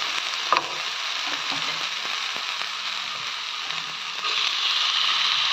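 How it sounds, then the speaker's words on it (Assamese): Tomatoes and capsicum fry in a pan for a sauce, giving a steady close sizzle with occasional stirring clicks, the hiss growing a little louder and brighter near the end; no voices. "ইয়াতে মই বিলাহী আৰু কেপচিকামখিনি দি দিম। দি পেলাই সুন্দৰকৈ মই ভাজি লওঁ।"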